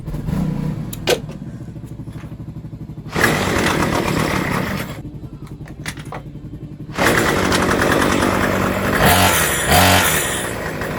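A small two-stroke string trimmer engine idles close by, a buzzy rattling drone that swells into louder revving bursts and settles back between them, with no talking over it.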